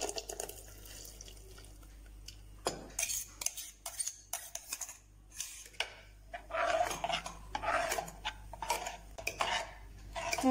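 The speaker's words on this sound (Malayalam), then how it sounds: "ഇത് നമുക്കിനി ചെറുതായിട്ടൊന്ന് ഉടച്ചു കൊടുക്കാവേ" Pressure-cooked dal being lightly mashed in a pot for a sadya-style parippu curry, heard as a string of soft wet squelches and irregular clinks of a ladle against metal, fairly quiet and close, with no talking.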